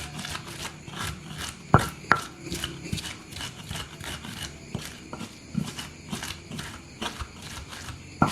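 Shallots and bird's eye chilies are chopped with a knife in a steady series of sharp, close taps, with a few louder strikes among them and no talk.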